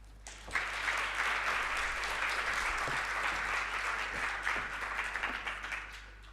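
A large audience at a formal lecture bursts into warm, sustained applause, dense clapping rising quickly and holding steady for several seconds before tapering slightly, with a low constant hum underneath.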